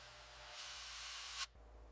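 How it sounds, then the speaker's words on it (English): An aerosol can of foaming coil cleaner hisses onto refrigerator condenser fins in one short, even burst of about a second that cuts off sharply, faint and close in a quiet room. "Hold the nozzle 2 to 3 inches from the fin array and spray in sweeping passes."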